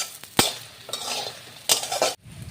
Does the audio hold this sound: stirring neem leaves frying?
yes